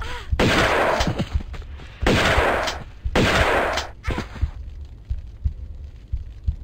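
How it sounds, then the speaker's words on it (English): Shotgun fired over and over in a video game: four loud, sharp blasts with echoing tails in quick succession, then a scatter of quieter, thudding shots. "Or we just pull out the shotgun. 23 shots."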